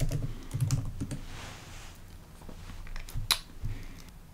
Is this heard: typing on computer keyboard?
yes